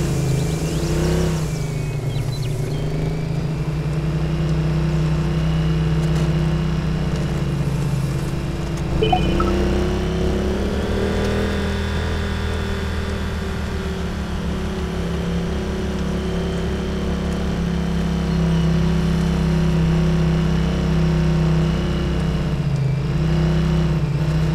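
A car driven in the military game ArmA 3 holds a steady, loud low engine drone for the whole stretch, the pitch rising and falling slightly as it revs, with no talk.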